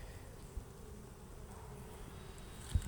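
Honey bees drone steadily around an open hive frame during a beginner beekeeping inspection, a continuous close buzz with a brief soft knock near the end.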